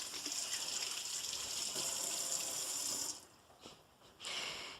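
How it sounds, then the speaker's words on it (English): Cucumbers being washed under a running kitchen tap, a steady close gush of water that cuts off briefly and then resumes. "I'm going to wash them real quickly"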